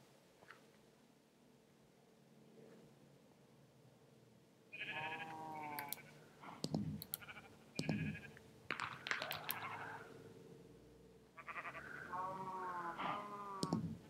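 Sheep bleating in the video game Minecraft, a run of short, fairly loud repeated bleats in bursts over the second half, with game sounds and players talking around them.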